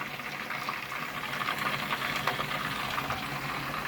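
Beef frying in a pan on a rented-room balcony, a dense steady sizzle and crackle of hot oil throughout, close and continuous with no talk.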